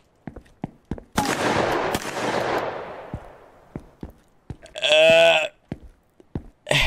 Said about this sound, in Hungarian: Hallottad a lövéseket?